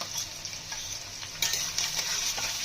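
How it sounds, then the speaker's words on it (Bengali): Onions frying in mustard oil in a wok, a steady close hiss of sizzling with occasional louder crackles and stirring scrapes throughout, no voices. "পেঁয়াজটা একটু ভাজা ভাজা করে নেব"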